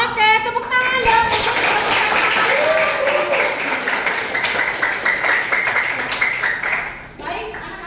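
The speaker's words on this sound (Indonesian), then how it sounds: "Oke, tepuk tangan dong." A school class applauding at their homeroom teacher's request, with dense, sustained clapping lasting several seconds and fading near the end while children's voices and chatter carry on over it.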